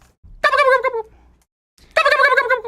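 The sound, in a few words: man imitating a turkey gobble call with his voice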